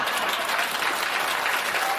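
Loud, dense audience applause at a late-night TV comedy show, sustained clapping from a studio crowd at full intensity throughout.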